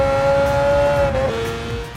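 Mazda four-rotor rotary engine running at steady high revs, a loud, sustained buzzing tone that dips slightly in pitch partway through, with no talking.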